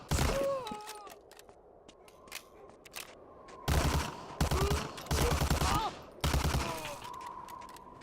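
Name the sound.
MG42 machine gun fire in Medal of Honor: Allied Assault, video game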